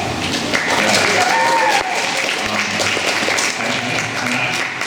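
Audience clapping for two competitive swimmers at a swim clinic, continuous clapping under a speaking voice.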